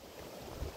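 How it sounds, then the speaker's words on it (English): Steady wind rushes and buffets against the microphone on a hilltop, a continuous low roar with no voices. "it's a tad bit windy up here on the hill today"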